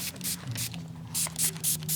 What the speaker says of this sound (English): you do want to spray a generous amount of the soap and water